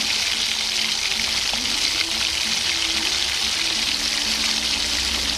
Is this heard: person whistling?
no